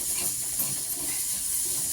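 Green chillies steaming in a pan just uncovered, a steady broad hiss continuing evenly throughout at moderate loudness, with nobody talking.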